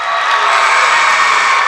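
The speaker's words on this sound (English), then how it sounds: "The crowd yells," A school gym crowd at a boys' varsity basketball game yells and cheers loudly and continuously, a dense wall of voices with no break.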